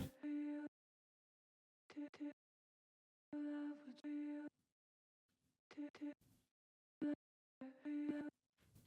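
A second chopped vocal sample taken from a song's main vocal plays as quiet sung fragments in an uneven, stuttering rhythm, some held and some clipped short, with gaps of silence between.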